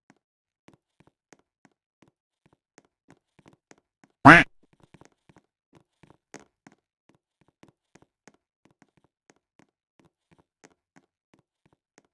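One loud, short duck quack from a Roblox game bursts out once, surrounded by long near-silence with faint scattered taps and clicks.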